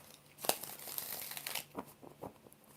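Tarot cards are shuffled, a soft papery riffle and crinkle in several close bursts, fairly quiet and without talk.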